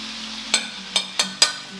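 Crayfish and finely chopped garlic saute in a hot pan with a steady close sizzle, broken by four sharp stirring or scraping bursts about half a second apart.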